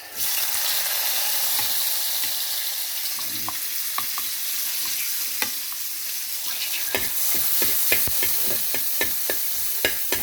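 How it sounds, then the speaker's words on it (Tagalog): Fish and onion frying and being stirred in a pan for salted tilapia: a steady loud sizzle with repeated utensil scrapes and clicks against the pan, growing busier toward the end. "Halu-haluin."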